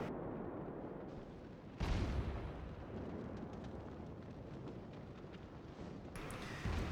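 Mikasa battleship main guns firing in the naval combat game World of Warships: two heavy booming salvos, one near two seconds in and another near the end, over a continuous low rumble of battle noise.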